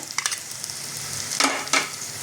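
Ginger, garlic, green chili and cashew pastes fry with onions in a pan for a Lucknow-style paneer biryani, a quiet hiss broken by a few sharp bursts of spatter and stirring, with no talk.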